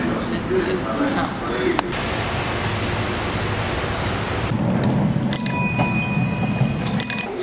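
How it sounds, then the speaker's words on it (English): A rickshaw or bicycle bell in India rings in a cluster of bright, rapid dings during the last couple of seconds, over steady loud street noise and rumble. "you honk your horn or you ring your bell if you're on a bike or in a rickshaw to let people know you're coming"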